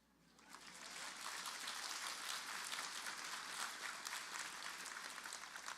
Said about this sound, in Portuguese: Meu Deus, vocês não aplaudiram isso?